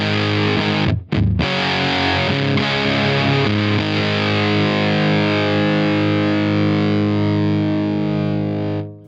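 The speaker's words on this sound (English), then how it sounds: "It's a really useful fuzz sound for leads and for rhythm stuff." Cuvave fuzz pedal on an electric guitar with no buffering, giving a thick, saturated fuzz tone: a brief choppy stab, then a long sustained distorted chord ringing loud and dense for several seconds before fading out.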